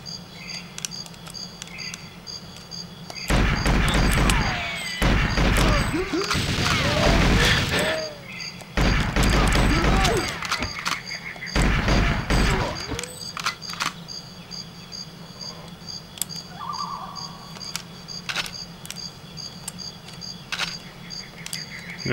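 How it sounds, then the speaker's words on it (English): Repeated gunfire bursts from the Nintendo 64 game GoldenEye 007 in a jungle level, loud clustered volleys separated by short pauses over a constant insect-like background chirp, with no talk. "Natalia's shooting at something."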